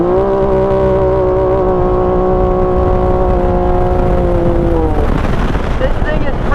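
A Can-Am X3 side-by-side in 4-wheel drive accelerates hard up close, its engine drone climbing steadily in pitch for several seconds before a sharp shift and a burst of rougher, gravelly roar.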